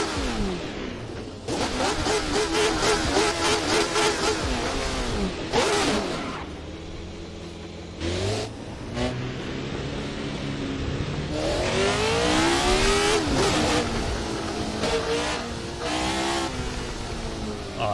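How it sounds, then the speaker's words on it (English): A 1970s Formula 1 car in the Assetto Corsa sim roars loudly with a deep, bassy exhaust, revving hard through repeated rising and falling pulls with brief lifts between gear changes. "Oh, the bass on that exhaust sounds really cool."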